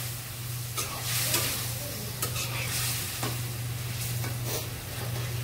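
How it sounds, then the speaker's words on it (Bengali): Fish sizzles loudly and continuously in spice masala in a pan, with a steady hiss, occasional utensil scrapes and a constant low hum underneath. "মশলা কষা নিবে এখন, মশলা কষায় মাছ দিয়ে দিল"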